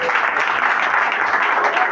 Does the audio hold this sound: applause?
yes